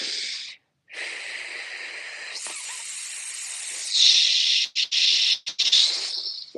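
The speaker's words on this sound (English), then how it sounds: "loudly shushing like you're telling someone to be quiet." A person forcefully exhales in a loud, sustained shushing breath, a hissy rush of air repeated in long pushes with a few brief breaks, close and alone.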